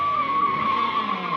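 Tires skid and squeal in a sustained high screech during a car chase, a race-style car sliding loudly and close by for the whole moment, with no voices.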